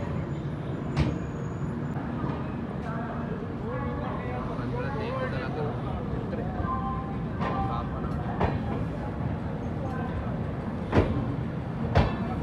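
A Garib Rath Express train (Gaya to Anand Vihar) rolls out and moves along, a continuous loud rumble heard from onboard with occasional sharp clanks and air-brake hisses, while people talk nearby.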